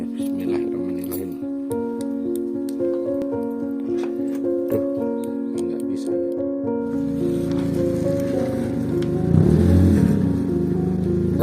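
A Suzuki Jimny engine being cranked but failing to start, with a repetitive mechanical starter whir and clicking that cuts off partway, followed by a louder low rumble as someone speaks over it.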